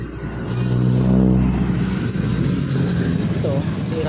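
A Honda Click 125 scooter engine, taken down for overheating with a worn gasket, starts and runs with a steady low rumble that swells in the first second and then holds, close by, with someone talking over it.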